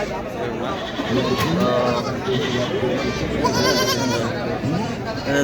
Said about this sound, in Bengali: দর্শক আপনারা দেখছেন এই যে বানেশ্বর হাটের ছাগল